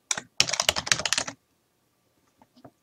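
Fast, close keyboard clatter on a computer keyboard while setting up Japanese input in Windows, a dense burst of keystrokes for about a second, then silence with a few faint clicks near the end.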